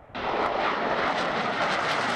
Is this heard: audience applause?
no